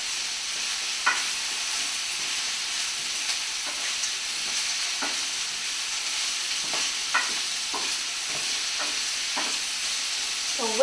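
Zucchini is stirred in a frying pan, giving a steady sizzle with soft, irregular scrapes and taps of a utensil throughout, close and moderately loud, with no talking.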